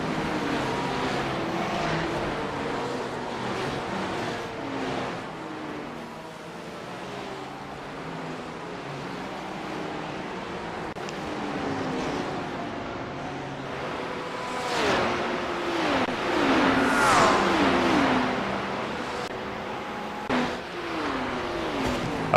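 Race cars in a night endurance race on the Nurburgring Nordschleife in a racing video game, engines droning and whining continuously at moderate loudness, rising briefly as cars pass.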